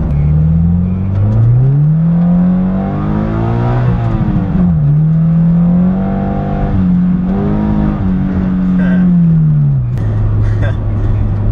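Subaru BRZ fitted with an Invidia N1 exhaust pulling hard on a cold winter road, the close, loud engine note climbing through the revs, dipping at shifts and rising again.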